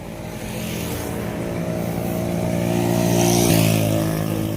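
A motorcycle engine passes by on a road in Donsol, its steady droning note swelling louder as it approaches, then easing slightly as it moves on.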